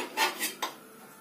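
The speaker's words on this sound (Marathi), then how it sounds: "असं छान भाजेपर्यंत हलवणार आहोत" Cumin, carrots and peas being stirred in a wok for a gajar mutter paratha filling, giving three quick metallic scrapes and clinks of a spatula against the pan, close and fairly quiet, with no talking.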